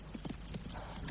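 Galloping horse hooves in a foggy radio drama scene, a quick, steady run of muffled clip-clop beats at moderate loudness against a soft, continuous background.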